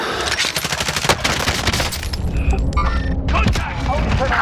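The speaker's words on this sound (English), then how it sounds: "Someone else is shooting." Dense automatic gunfire from another player in Call of Duty Modern Warfare rattles continuously, loud and close, with a brief lull midway before the shooting resumes.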